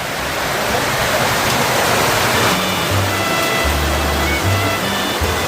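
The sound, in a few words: heavy rain outside, water dripping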